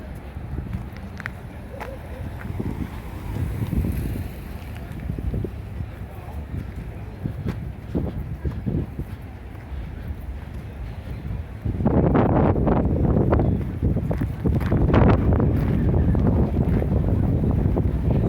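Wind buffets the microphone outdoors on the Las Vegas Strip in heavy, fluctuating rumbles that grow louder and rougher partway through.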